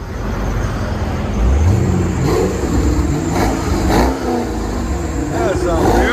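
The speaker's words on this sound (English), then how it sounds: "It's a clean sound for a Corvette, you know?" 1998 Chevy Corvette with a 5.7L V8 and dual axle-back exhaust, revving in a low steady rumble with a few quick throttle blips, up close and loud, with people talking over it.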